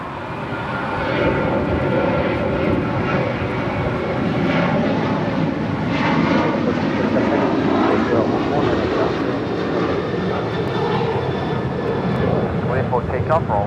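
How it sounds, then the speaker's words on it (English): An American Airlines Boeing 737-800 takes off from LAX, its jet engines roaring loudly and steadily throughout with a broad, rumbling whine, while a voice talks over the noise. "This is American Airlines 2780 departing to Austin, Texas on a 737-800."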